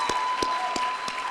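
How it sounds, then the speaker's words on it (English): Audience members at a school theater show applaud, with four distinct, evenly spaced claps standing out over a steady tone and a low background wash. "Let's give them a round of applause as well."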